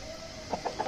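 A local village rooster on a Nepali farm gives a few short, close clucks in quick succession, each brief and moderately loud over a quiet outdoor background.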